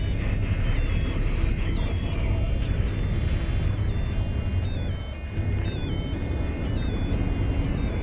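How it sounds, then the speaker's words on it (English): A frigate's afterburner in EVE Online makes a continuous, dense, roaring rush with a faint high whine layered on top, holding steady at a fairly loud level with a slight dip midway. "Yeah, I have the afterburner on."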